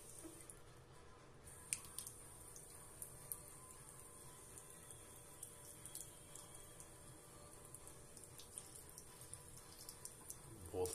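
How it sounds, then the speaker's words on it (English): A steady stream of water runs from a bathroom tap at full flow, a continuous hiss with faint splashes and small clicks, fairly quiet and without talk. "That's all the hot water that comes out."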